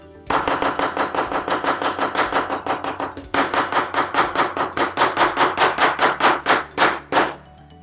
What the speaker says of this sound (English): It feels ridiculous to just sometimes cut things with a machete normally.